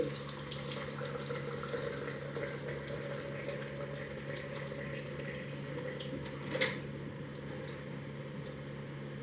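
Water runs steadily into a vessel, a continuous close pour over a low hum, with a brief clink partway through.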